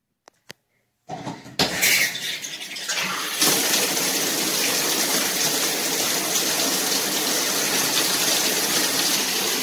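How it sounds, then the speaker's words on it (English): A shower bursts on after a few faint knocks and a short splash, then runs as a steady, loud hiss of spraying water. "You gotta take a shower."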